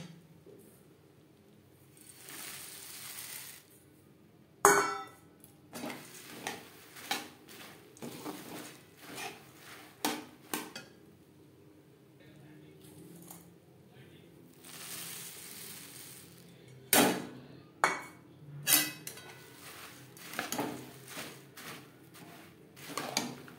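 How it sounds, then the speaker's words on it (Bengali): Puffed rice being stirred into cooling jaggery in a pot, heard as intermittent crunchy rustling, scraping and clanks of a spoon against the pot, close and fairly quiet, with pauses between bursts and no speech. "এই পর্যায়ে দিয়ে দেব খই। অল্প অল্প করে মেশাতে থাকবো আর নাড়তে থাকবো।"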